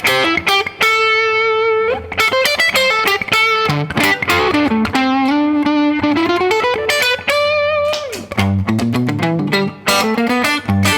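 A fuzz-distorted electric guitar plays thick, chunky chords and sustained notes, loud and close, with no voices.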